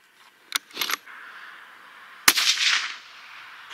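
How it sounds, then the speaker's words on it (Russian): A sharp rifle shot cracks loudly while sighting in a scope, followed by a brief rolling echo; a couple of faint metallic clicks come before it. "Пробуем, делаем второй выстрел."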